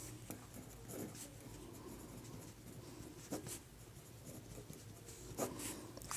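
Pen or chalk scratching out working during a Class 10 maths lesson on arithmetic progressions, a steady run of faint strokes and scrapes with small taps, no talking.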